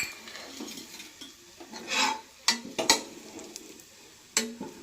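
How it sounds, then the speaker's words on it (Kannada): Dried fenugreek leaves (kasuri methi) dropped into hot oil and ghee give a soft, steady sizzle, broken by a few sharp clinks and scrapes of a spoon against the pan. "ಎಣ್ಣೆ ಬಿಸಿ ಆದಮೇಲೆ ಸ್ಟಾರ್ಟಿಂಗ್ ಫಸ್ಟು ಕಸೂರಿ ಮೆಥಿ ಹಾಕ್ತಾಯಿದ್ದೀವಿ"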